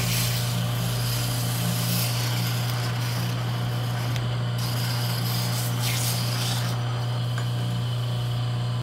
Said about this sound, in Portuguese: você vai só passar, deixar a lima correr